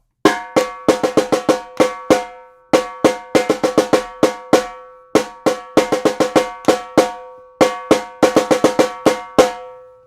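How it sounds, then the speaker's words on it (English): A samba lead drum repeats a simple, constant groove of sharp, ringing strikes in quick clustered bursts. The hits are close and loud, with short gaps between phrases and no talking. "The leader is going to play a simple pattern that will remain constant throughout the groove."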